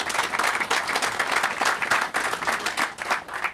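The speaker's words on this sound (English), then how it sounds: "I want to give Lou again a round of applause for what they're doing." An outdoor crowd at a baseball stadium groundbreaking in Wichita claps in a steady, moderately loud round of applause, with individual claps audible in the mix and no voices on top.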